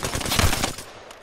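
Gunfire from the Apex Legends video game: a loud, dense rapid burst of automatic shots close up, filling the short moment before tapering into a fading tail, with no talk.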